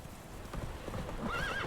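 Hooves of the horse Roach clip-clop in The Witcher video game, a few soft irregular steps close by, with a brief whinny rising near the end over quiet game ambience.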